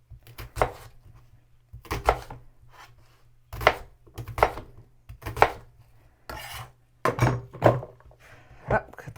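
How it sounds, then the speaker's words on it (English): A knife chops vegetables such as pepper on a cutting board at home, about a dozen crisp, distinct thunks falling in quick uneven clusters, close and clear, with no talking. "So now we're going to take care of the rest of the veggies, get them all cut up."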